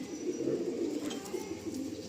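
Madrasi breeding pigeon cooing softly and steadily nearby, a low continuous murmur with no other voices.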